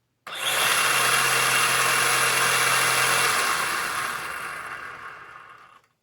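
A HoSpeed Pioneer brushless 4x4 RC monster truck motor, roughly 4,000 kV, revs its wheels up to a steady high-pitched whine, loud and close, holding for several seconds before gradually spinning down.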